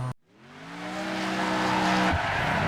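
Racing car engines in the video game Wreckfest rev upward after a brief cut, the steady rising drone joined by squealing tires, loud and close throughout.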